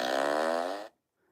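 A novelty fart device lets out a single loud, buzzy, sustained fart lasting just under a second, then cuts off abruptly into silence.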